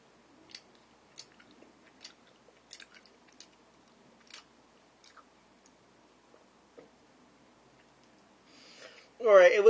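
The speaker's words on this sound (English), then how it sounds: "I'm so chewing it." Sticky banana taffy is chewed close to the mouth, giving faint, sparse wet clicks and smacks at an irregular pace, followed at the end by a short burst of louder speech.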